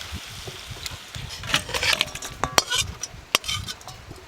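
Cooked chicken with tomato is tipped out of a pan, bringing close scraping, clattering knocks and a few sharp metallic clanks in an uneven run, with no voices.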